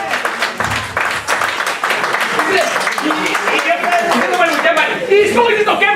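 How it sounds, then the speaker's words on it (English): A church congregation at an end-of-year thanksgiving service claps in loud, dense applause throughout, with voices and crowd chatter mixed in over the clapping. "Clap for that one."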